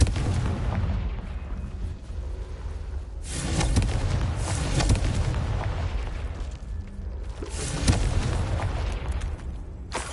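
Confringo spell blasts in Hogwarts Legacy, deep booming explosions bursting repeatedly over a rumbling, crackling background of combat noise.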